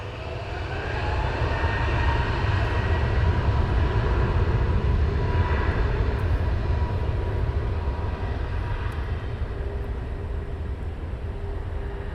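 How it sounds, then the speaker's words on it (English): An Airbus A380 taxiing at London Heathrow Airport, a loud, steady low engine rumble and whine that holds evenly throughout with no talk over it. "it's the A380 I said about taxiing down"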